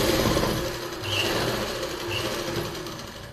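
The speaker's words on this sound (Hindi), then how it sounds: "इस तरह से ही मैं इस साइड को भी सिलाई लगा लेती हूँ" A sewing machine runs steadily while stitching the lining of palazzo pants, a close, even mechanical whir that pauses briefly and resumes.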